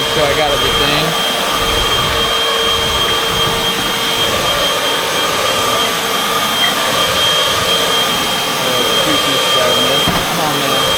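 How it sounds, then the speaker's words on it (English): A vacuum cleaner set to carpet mode runs loud and steady right up close, its continuous whining roar filling the whole stretch with no break, as if partly clogged. "I just realized that this is still on carpet mode when I adjust the vacuum."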